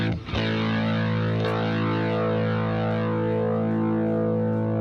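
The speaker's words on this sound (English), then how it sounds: "I'm going to try turning up some distortion." A distorted electric guitar through a Nembrini Audio Jazz Chorus amp sim rings out as one loud, sustained, buzzing chord that starts with a sharp attack and holds steady without fading.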